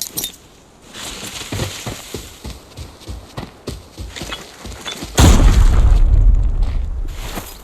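A grenade explodes in the video game Arena Breakout: a sudden loud, close blast rolls into a sustained deep rumble, following several seconds of lighter thumps and clatter.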